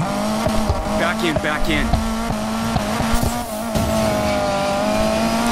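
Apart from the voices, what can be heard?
car drifting with tire squeal in Need for Speed Payback video game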